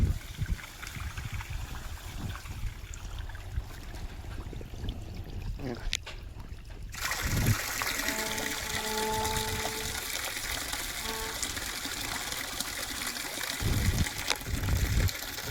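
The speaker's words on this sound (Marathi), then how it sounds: "इकडं पाणी आलंय आता" Steady gush of water flowing from an old stepwell, loud and continuous, swelling after a few seconds, with faint voices and a tonal hum in the background.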